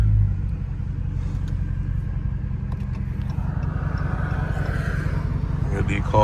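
A Dodge Scat Pack car engine rumbles steadily with low revving throughout, close by, on a wet road in traffic, with a faint voice murmuring underneath.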